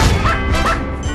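A dog barks twice in quick, sharp bursts, loud and close, with a short gap between them and no talking.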